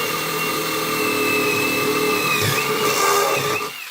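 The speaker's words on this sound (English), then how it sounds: "So I use my DeWalt drill with a step drill." DeWalt drill driving a step drill bit through metal, a loud continuous whining, screeching grind with shifting pitch as the bit cuts, close up, ending as the motor winds down.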